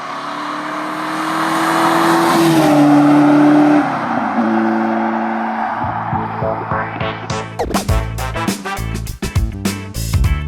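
A 1996 TVR Cerbera V8 holds a loud, steady engine note, shifts pitch as it changes gear, then barks through a rapid series of sharp revs and throttle blips up close.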